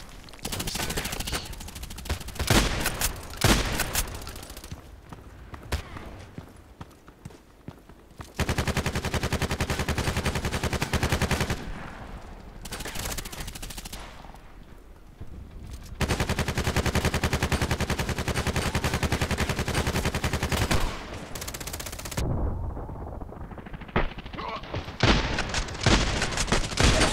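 In the video game Contract Wars, rapid bursts of automatic gunfire rattle loudly in long runs, separated by short quiet gaps, with occasional single shots and a sudden cutoff near the end.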